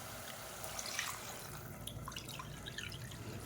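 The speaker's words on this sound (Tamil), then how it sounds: "அதே கப்பில் நாலு கப் அளவுக்கு தண்ணி சேர்த்துக்கலாம்" Water poured into a cooking pot of tomato pongal, a soft steady splashing and trickling that runs close by and fairly quiet for the whole moment, with no voices.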